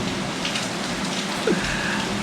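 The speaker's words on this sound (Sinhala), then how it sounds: "හෝ ගාලා වහිනවා එළියේ" Heavy rain pours down outdoors in Sri Lanka, a steady dense hiss that holds at an even level throughout, with no voices over it.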